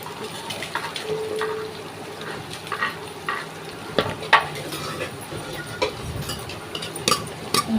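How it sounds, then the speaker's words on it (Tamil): Tomatoes sauté in a pan for chicken curry, giving a soft steady sizzle with repeated scraping and stirring taps up close, small clatters of the spoon against the pan scattered throughout. "தக்காளி போட்டுக்கோங்க போட்டு நல்லா வதக்கிக்கிறோம்"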